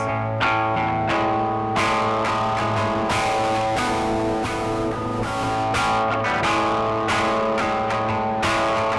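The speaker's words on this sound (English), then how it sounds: "the most versatile distortion plugin out there" A heavily distorted instrument processed through the Cable Guys Drive Shaper distortion plugin plays a rhythmic riff with sharp repeated attacks over a sustained low drone. No talking.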